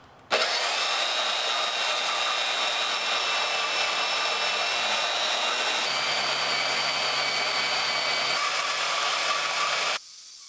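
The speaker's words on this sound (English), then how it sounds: "for time's sake, and since I have one, I'm going to use a portaband" A portable band saw cuts through a forged tiger-pattern Damascus steel billet, a loud, continuous whining grind that starts abruptly, shifts pitch partway through and cuts off near the end, with no voices.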